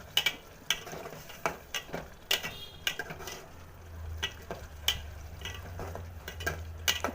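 Boiled white lima beans being stirred into curry masala in a pan, with a spoon scraping and clinking against the metal in irregular taps and scrapes over a low background hum, close by and with no talking.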